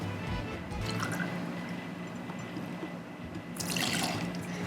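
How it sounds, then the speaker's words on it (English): Two ounces of BCN gin poured for a Spanish gin and tonic, a steady liquid trickle and splash heard up close, continuous and fairly soft, briefly louder near the end. "we're going to start off with 2 ounces of the BCN gin"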